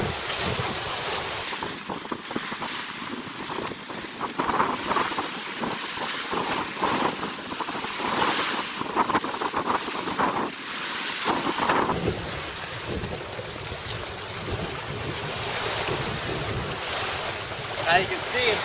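Surf and a side-shore wind on an open beach where kiteboarding is under way; continuous loud wind rush and breaking waves fill the whole stretch, with a voice faintly mixed in.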